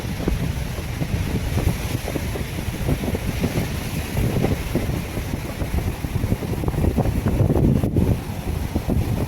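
Big sea waves surge and crash continuously around fishing boats, mixed with heavy wind rumble against the microphone and a low boat engine drone.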